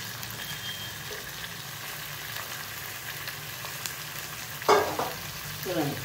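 Washed chicken pieces sizzle in hot oil with onion and ginger paste. A steady frying hiss runs throughout, with a sharp utensil clatter near the end.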